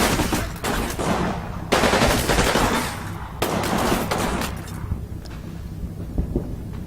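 Dense gunfire rattles in the World War II strategy game Combat Mission Final Blitzkrieg, with overlapping machine-gun bursts and rifle shots in a loud, sustained firefight that thins out toward the end.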